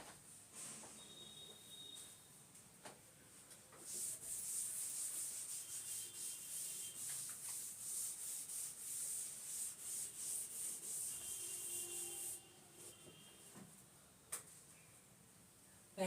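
Scratchy rubbing strokes of a pen or chalk drawing the characteristic curves of a series DC motor on a classroom board in an ITI electrician lecture. The strokes build into a steady, fairly close scraping run through the middle, with no talk.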